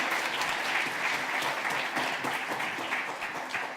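Dense applause from a gala audience at a capital markets forum, greeting the event organiser with steady, unbroken clapping that holds near full level for about four seconds.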